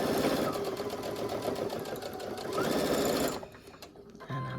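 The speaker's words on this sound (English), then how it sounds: "I'm basically stitching right under that" A Brother NQ3550W sewing machine stitches a quilt seam through batting, a steady close rapid whir running for over three seconds before stopping abruptly, leaving quieter room noise.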